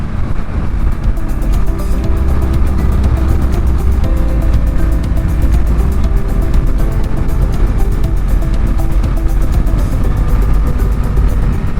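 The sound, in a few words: wind blowing while riding through Boulder Canyon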